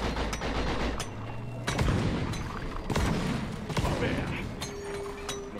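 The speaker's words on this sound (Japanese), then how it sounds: "連鎖爆発してる" Chain explosions of explosive plants in the video game Deep Rock Galactic, a run of sharp booming blasts and crackling bursts going off one after another amid gunfire-like clatter, with players talking over them.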